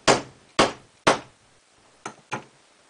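Five sharp impacts as a chrome toy robot's wing is struck hard against a surface, three evenly spaced strikes followed after a pause by two quicker, lighter ones, each with a short ringing decay, close and alone.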